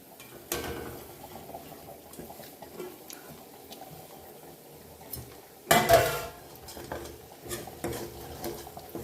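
Powdered spices, including turmeric, red chilli powder, asafoetida and onion-garlic masala, fry in oil in a pan, heard mainly as close, irregular stirring scrapes and metal clinks against the pan over a faint background hiss.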